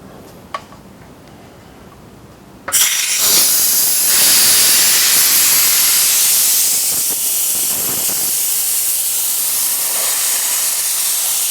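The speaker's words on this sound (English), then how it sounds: "flip that valve open and leave it open, and it blows all the air out" Compressed air bursts loudly from the drain valve of a steel compressor tank, a sudden roaring hiss that starts after a quiet moment and holds steady, easing slightly toward the end.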